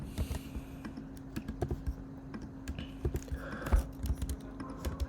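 Typing on a computer keyboard while writing code, irregular bursts of close, crisp key clicks over a low steady electrical hum, with no speech.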